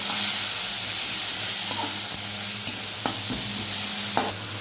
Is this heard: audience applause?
no